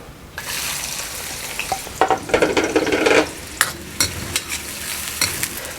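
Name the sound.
onions frying in hot oil in a pan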